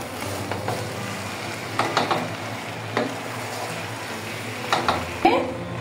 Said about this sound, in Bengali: এখানে সবগুলা কিশমিশ আমি অ্যাড করে খুব সুন্দর মতো নেড়ে মিক্স করে দিব